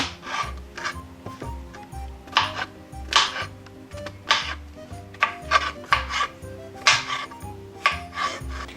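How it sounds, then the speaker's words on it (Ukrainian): Repeated knife strokes slice mushrooms on a board for rice with vegetables, a steady series of close, crisp cuts about every half second, each with a short rasping scrape, alone without talk. "Нарізаємо гриби."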